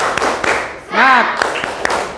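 Children in a classroom doing a rhythmic clapping chant, sharp claps at a steady beat broken by a sung or shouted vocal syllable in the middle, voices mixed with the claps.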